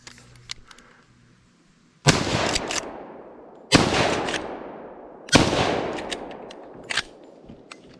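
Three loud, close rifle shots from an old Model 94 fired at tires outdoors, each a sharp crack followed by a ringing decay, spaced one to two seconds apart.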